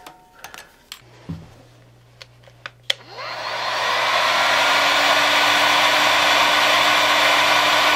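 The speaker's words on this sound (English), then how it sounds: "this is my heat gun I got at Harbor Freight" After a few clicks and taps, a Harbor Freight heat gun whirs up to a steady, loud rushing roar of hot air that continues without pause.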